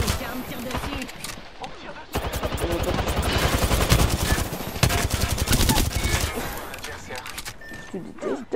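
Rapid bursts of gunfire ring out against enemies in the shooter Battlefield, with dense automatic shots and scattered single cracks filling most of the stretch while a player talks excitedly over the battle.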